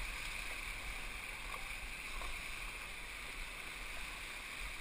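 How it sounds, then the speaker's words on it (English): A stand-up paddleboard paddled upstream into whitewater on a river, with a steady rushing wash of flowing water and faint paddle strokes buried in it, continuous and moderately loud. "I'm going to paddle upstream."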